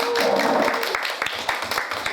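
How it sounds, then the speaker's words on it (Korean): Audience clapping at a board meeting of a community association, a steady wash of many hands applauding together from start to finish, with faint voices underneath. "박수 한번 부탁드리겠습니다"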